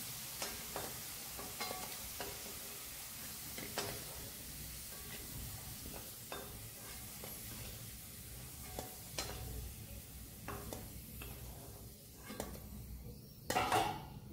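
Potato pieces fry in oil in a pan over lowered gas heat, giving a soft, continuous sizzle with occasional stirring clicks and a louder clatter near the end.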